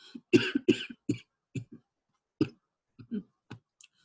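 A person coughs repeatedly, close and fairly quiet, in short bursts with brief pauses between them, trailing off into a few small throat sounds.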